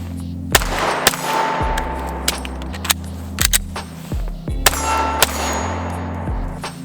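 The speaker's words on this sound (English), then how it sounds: "Let's give a reload a try." Sharp metallic clanks and clicks from an IWI Masada 9mm pistol being reloaded and handled, several distinct close impacts spaced irregularly, some ringing briefly, over low background hum.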